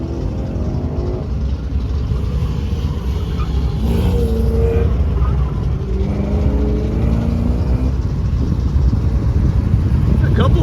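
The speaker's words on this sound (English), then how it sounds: "That C1 Corvette. The sounds incredible." A C1 Corvette engine revs loudly and steadily nearby at an autocross event, with rising and falling engine tones running throughout under a voice talking over it.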